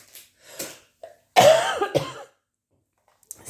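A person with a worsening, persistent cough lets out a few harsh coughs, the loudest a rough burst in the middle, with short pauses and near silence after.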